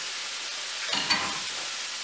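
Sliced onions piled onto burger patties on a hot griddle, a steady close hiss of sizzling with a brief louder crackle and stir near the middle.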